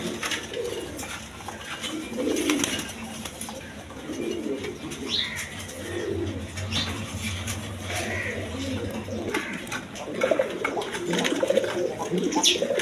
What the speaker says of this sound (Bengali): এটা একটা শৌখিন নর কবুতর